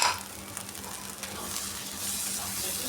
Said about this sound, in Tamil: ஏற்கனவே அரைச்சி வச்சுருந்தோம் பார்த்தீங்களா, அதையும் போட்டு நல்லா வதக்கிக்கிறேன்